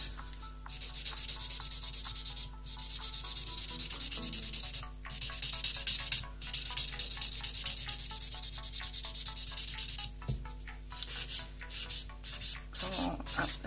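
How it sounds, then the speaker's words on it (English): A nail file steadily rubbing over gel nails to shape an apex, a close, continuous scratchy sanding that runs for many seconds with only brief pauses and no talking. "just to give you an idea of how much filing we need to do. Go up each side."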